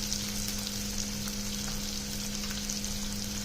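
Poha frying with turmeric, salt and chutney in a home kitchen pan, a steady close sizzle with a faint electrical hum beneath it and no talking.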